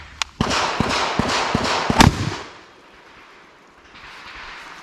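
A shotgun loaded with TAC 21 buckshot through a cylinder choke fires several sharp, loud reports in rapid succession outdoors, each a hard crack, before the echo fades into quiet background noise.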